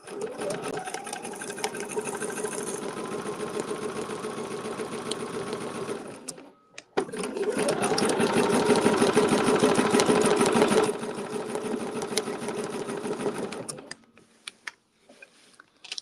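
A sewing machine stitches a quilt in long, steady runs of rapid mechanical chatter, breaking briefly midway, then running again before stopping near the end.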